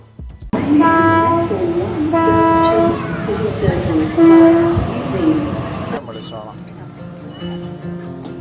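Harmonic train horn sounds in long blasts over a rumbling double-decker train ride in Sydney, then the horn stops and quieter rolling rail noise continues.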